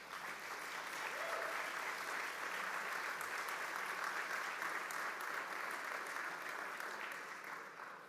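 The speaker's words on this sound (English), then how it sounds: "everyone here deserves another big round of applause" A large audience at an awards celebration gives a long, even round of applause. The clapping stays steady and fairly soft, heard from a distance, with no voices standing out.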